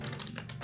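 Rapid keystrokes on a computer keyboard as a MySQL query is typed, a short close burst of several light taps with no talk.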